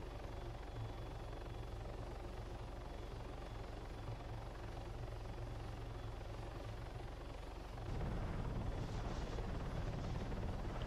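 Helicopter rotor hovering in the ARMA 3 video game, a steady loud continuous drone and thump that swells louder and rougher toward the end, with no voices.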